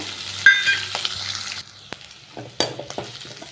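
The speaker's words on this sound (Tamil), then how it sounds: "அது கூடவே கருவேப்பிலையும் சேர்த்துக்கிறேங்க" Small onions and curry leaves frying in a pan for vandikaran chutney, a bright close sizzle with sharp crackles and a few stirring clatters, dropping quieter midway then flaring up again.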